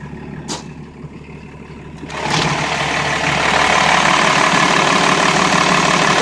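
A 12-valve Cummins diesel in a 40-foot 1991 Bluebird bus idles with a steady low rumble, getting louder and fuller after a sharp click and stays close and constant, with no talk.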